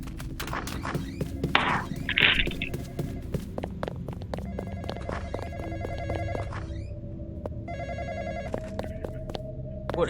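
A telephone rings in the horror video game The Graveyard Experience, its bell repeating in bursts among footsteps, thuds and a low background hum, with a person speaking over parts of it.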